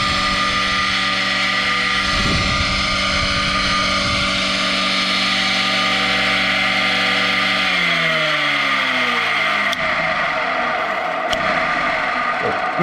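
An old electric motor, powered on by its cord, runs rough with a steady loud hum and harmonic whine that shifts in pitch midway, with a few clicks near the end and no talk over it.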